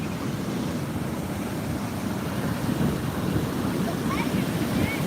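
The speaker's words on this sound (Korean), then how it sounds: "징글징글한 파도" Ocean surf rumbles and washes at a beach, a steady low broadband roar mixed with wind buffeting on the microphone, with faint distant voices.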